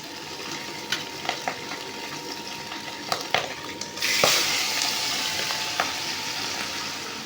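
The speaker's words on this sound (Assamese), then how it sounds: "প্ৰথম মাছখিনি ফ্ৰাই কৰিবৰ কাৰণে কেৰাহী পাতি দিছোঁ।" Chanda fish rubbed with turmeric and salt frying in a kadai, a steady sizzle broken by several sharp clicks and knocks, then a louder surge of hissing partway through.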